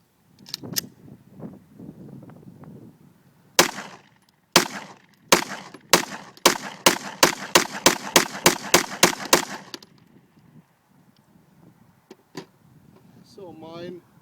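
A Remington RP9 pistol fires CQ ammunition in a fast string of a dozen or so sharp, loud shots after a couple of earlier single reports, with quieter talking before and after the shooting.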